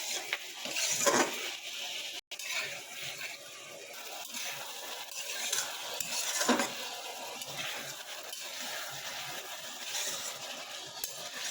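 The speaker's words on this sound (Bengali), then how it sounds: "সুন্দরভাবে আমার মুরগির গোশতটা কষানো হয়ে গিয়েছে।" Chicken pieces with biryani spice mix and a little water sauté in a pot for chicken pulao, a faint, continuous low sizzle with occasional soft stirring scrapes and no voices.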